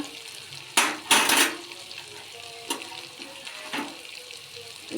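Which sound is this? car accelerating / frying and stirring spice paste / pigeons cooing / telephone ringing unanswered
frying and stirring spice paste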